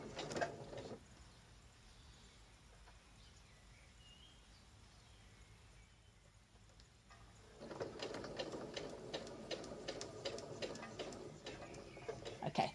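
A sewing machine stitches backward across ribbons, a quiet rapid mechanical ticking that runs softly at first, pauses briefly, then resumes louder and busier with clattering needle strokes.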